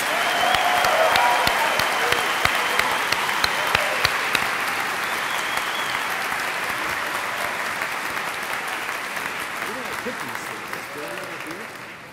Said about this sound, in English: let us please have some applause for our MSCF